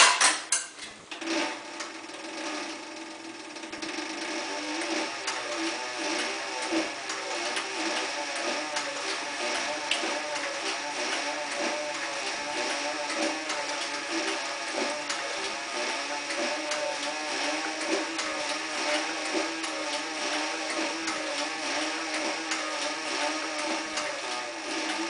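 Sewing machine stitching a leather holster, running in a long, steady mechanical hum with rapid needle rhythm after a few uneven starts, fairly close and unbroken.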